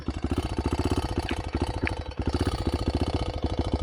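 Engine of a Honda CRZ 125 motorcycle in very poor condition, struggling to hold its idle: a close, loud, rapid putter with regular pulses that falter and dip briefly mid-way before resuming.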